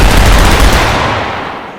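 An automatic weapon in a video game fires a loud, dense, rapid burst of shots that fades out over the final second, with no talk over it.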